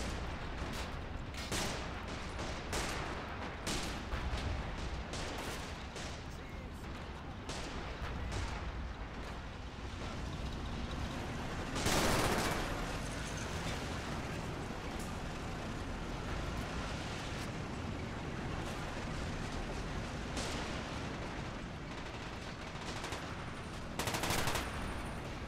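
Gunfire and artillery in a World War II Eastern Front tank battle game with German and Russian armor, dense rattling bursts and heavy booms fired over a continuous battle din, no talk.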